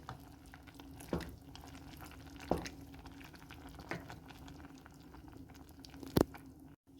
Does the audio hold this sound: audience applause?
no